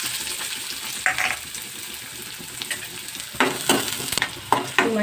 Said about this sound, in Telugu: ఇప్పుడు నేను ఫస్ట్ ఆనియన్ పచ్చిమిర్చి ఒకేసారి వేసుకుంటాను